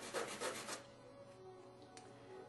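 Coarse sandpaper rubbed back and forth over a fishing float, a few quick scratchy strokes up close at the start, then a quieter pause with a faint brush near the end.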